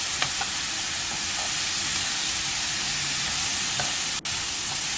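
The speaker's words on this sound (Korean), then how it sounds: "살살 손목에 힘 빼고 부드럽게 살살 요래 비비갖고 볶아주시면 되겠습니다" Zucchini and salted shrimp are stirred gently in a frying pan, giving a steady broadband sizzle with soft scraping strokes spread across the whole clip and no voices.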